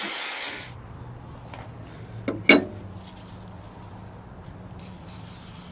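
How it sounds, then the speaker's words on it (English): Brake cleaner is sprayed onto steel to strip oils, with short aerosol hisses at the start and end around a quiet stretch, broken by a sharp metallic clink in the middle. "You can just use brake cleaner for this"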